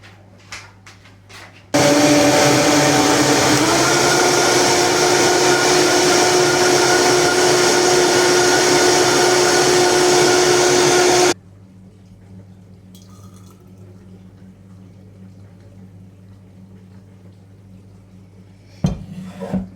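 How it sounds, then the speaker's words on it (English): A countertop blender whirs through a green kale smoothie, a loud steady motor roar with a rattling, grinding edge running about ten seconds before cutting off abruptly into quiet. "blend it."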